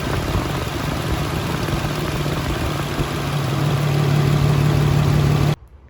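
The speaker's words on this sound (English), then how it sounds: "It's having some type of misfire issue." A Nissan Maxima's misfiring engine runs with a rough, uneven idle and a steady low rumble, close and loud, then cuts off abruptly near the end.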